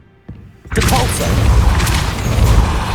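Hogwarts Legacy's Depulso spell goes off after a quiet moment: a sudden loud burst with a heavy thump, then a sustained rumbling, crashing wash of force and debris.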